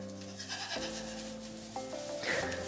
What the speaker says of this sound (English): everybody has to still get fed, don't they, Daisy Goat